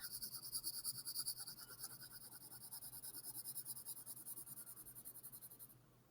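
A soft graphite pencil (3B to 7B drawing range) scratches out a short label on paper with rapid, rhythmic strokes, close and quiet, with no speech.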